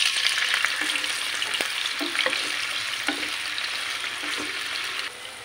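Tofu pieces sizzle loudly in hot oil in a pan. A dense, continuous crackle carries a few scraping stirs, then eases slightly at the end.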